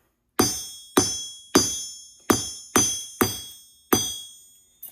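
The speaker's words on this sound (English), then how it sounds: "I'm gonna hammer little flatter spots." Seven sharp metallic hammer strikes on metal being flattened for a handmade tea strainer, evenly spaced about half a second to a second apart, each ringing briefly and decaying, close and loud with no talking.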